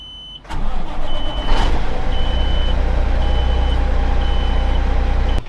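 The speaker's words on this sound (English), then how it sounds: "I want to start the truck, let it build up air." A truck engine starts with a sharp crank and then settles into a steady, low rumbling idle while building air pressure, close and loud, with a faint repeating beep above it.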